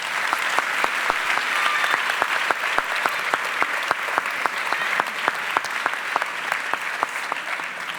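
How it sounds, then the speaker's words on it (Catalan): An audience at a theatre presentation at the Teatre Principal de Terrassa applauds, a loud, continuous crowd clapping punctuated by crisp individual claps, sustained for about eight seconds. "un aplaudiment"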